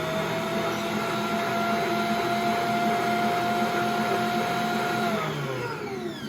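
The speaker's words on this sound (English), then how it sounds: "it's just going to integrate while the mixer's going" A stand mixer mixing dinner roll dough whirs loudly and steadily with a constant motor hum, then winds down in pitch near the end.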